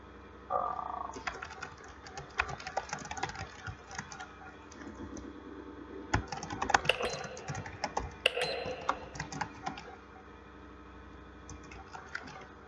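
Keys clatter in an irregular run of quick taps as text is typed on a computer keyboard, close and moderately quiet, with no voices.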